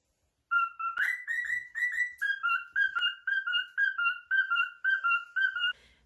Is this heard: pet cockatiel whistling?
yes